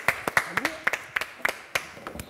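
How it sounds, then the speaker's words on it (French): A small audience clapping on a French television show, a short run of separate, fairly sparse claps, close and crisp, with a voice briefly over them. "Bravo, on peut applaudir."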